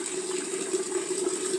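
Water trickles and splashes steadily into a Buchner funnel during an acetylsalicylic acid synthesis, a brief faint pouring sound with no talk.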